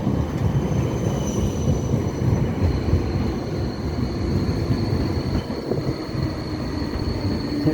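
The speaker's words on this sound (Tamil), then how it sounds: "இதோ இங்கே ஒரு ஆப்போசிட் சைடில் ட்ரெயின் வருது." Train running on a railway track, a loud, steady rumble of wheels and carriages close by, continuous throughout with faint high squeal tones above.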